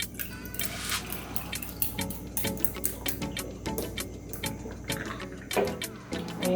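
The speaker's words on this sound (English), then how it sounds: "I'm going to pour it over some ice." Peach kompot pouring from an opened jar over ice, with irregular splashes, drips and clinks of ice sounding up close and fairly quiet.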